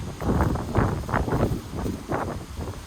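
Wind gusts outdoors on a walking tour past old houses near a church, buffeting the microphone in low, rumbling surges that swell and fade over a few seconds, with no voices.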